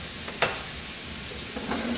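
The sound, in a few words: pears simmering with sugar and cinnamon on the stove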